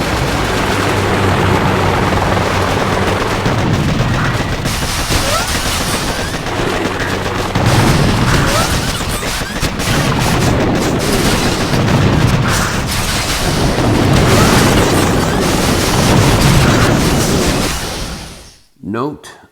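Helicopter rotor drone mixes with continuous gunfire and booming explosions in a dense, loud Boom Beach Warships battle that cuts off abruptly at the end.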